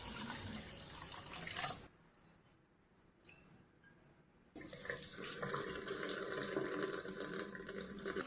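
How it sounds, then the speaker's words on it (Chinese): Tap water runs into a bowl as a few handfuls of glutinous rice are rinsed, with a steady splashing rush, a quieter lull midway, then the flow resumes at full strength. "用清水清洗干净。"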